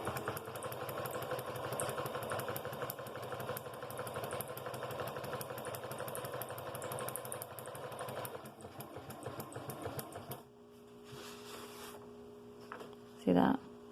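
Sewing machine stitching without thread along a drawn line on fabric, a steady rapid mechanical clatter running for about ten seconds before stopping, followed by faint hum and a brief voice.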